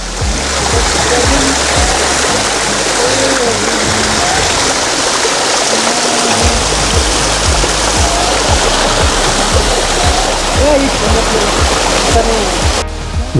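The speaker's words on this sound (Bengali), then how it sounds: "এটা হচ্ছে প্রথম ছোট ঝর্ণা পেলাম।" A small waterfall beside a Darjeeling mountain path gives a loud, continuous rush of falling water up close, with a low engine drone underneath throughout.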